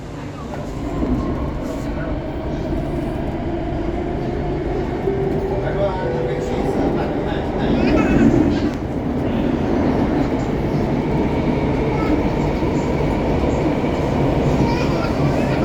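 Singapore MRT subway train riding the North East Line, a steady loud rumble and rail roar from inside the carriage that swells briefly midway, with faint passenger chatter underneath throughout.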